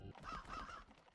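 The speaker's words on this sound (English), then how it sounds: "Cute little birds eating stuff." Video game birds eating give a few faint, honking, crow-like calls in a short rising and falling series, quiet and alone.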